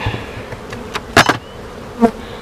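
Honeybees buzz around a backyard hive during a June inspection, with a steady insect drone and a few louder close passes of single bees flying near.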